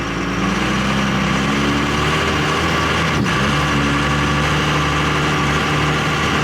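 A twin-turbo Cummins diesel pickup engine runs in a continuous loud, heavy drone, heard from inside the truck with a brief swell midway.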